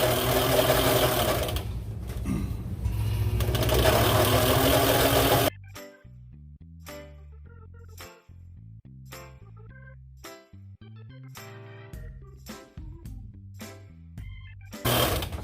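A line spooling machine winds 200 lb hollow core braid onto an Everol 20/0 big-game reel. A steady mechanical whir runs for about five seconds, then short stop-start bursts and clicks follow as the machine is pushed along.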